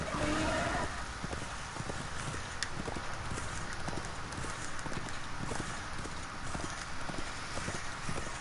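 Horse hooves in the video game Darksiders 2, a steady galloping clip-clop running the whole way over loud game ambience, with no talking.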